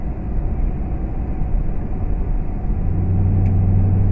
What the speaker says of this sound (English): The second gear in this is pretty noisy.